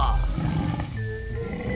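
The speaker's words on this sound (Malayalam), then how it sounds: "അവൻ ഷേർഖാൻ അലറുന്ന ശബ്ദം കേട്ടു." An animated tiger in a children's fairy tale lets out a deep, rumbling roar that fills the short moment, loud and close with a low growling tone under a musical backdrop.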